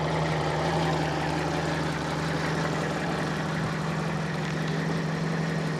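A Fiat Panda 4x4 Sisley with a freshly tuned carburettor idles steadily close by, a continuous even thrum with a fine rhythmic pulse and no voices.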